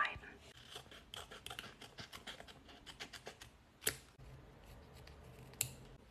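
Scissors snip repeatedly through stickers close up, in quick crisp cuts with a couple of sharper clacks, while a voice talks quietly underneath.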